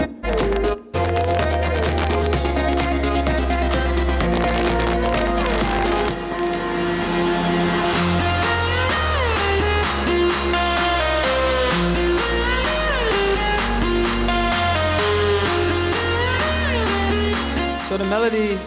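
Melody from an EDM track plays loud and continuous, a bright synth lead over sustained bass and chords, building in density midway with no talking.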